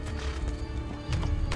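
In the Assassin's Creed II video game, a horse whinnies while hooves clip-clop beneath it, a short, fairly close burst of game audio with no voice over it.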